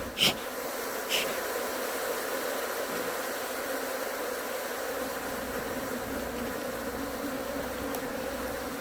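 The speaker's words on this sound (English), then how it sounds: "when there's this many bees, they just make a lot of noise" Dense, steady buzzing of many honeybees around a hive during an inspection fills the whole stretch, with a couple of louder insects zipping close by near the start.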